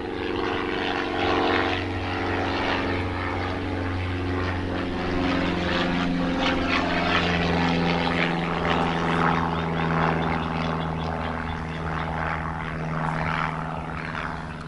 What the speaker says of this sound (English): We have to fight between the airplanes to do our videos all the time.